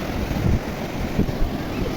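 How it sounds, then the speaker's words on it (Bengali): Waves wash and break continuously at Kuakata beach, Patuakhali, a broad roaring surge mixed with wind buffeting the microphone. "এই যে অসাধারণ অসাধারণ ঢেউ আসতে পড়ছে"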